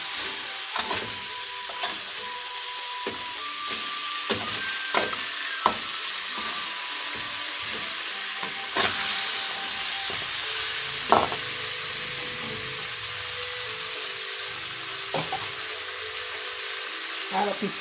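Pieces of fish dry-roasting in a hot pan with the gas off: a steady sizzle with scattered scraping and stirring clicks and a few sharper knocks, close and moderately loud, while a voice talks now and then.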